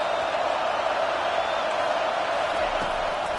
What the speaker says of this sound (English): It is getting loud out as this crowd tries to help its defense.